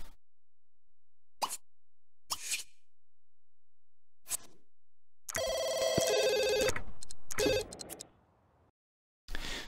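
In The Sims 2 video game, a telephone rings in a sustained electronic burst of about two seconds, set among quiet plops and clicks of game sounds.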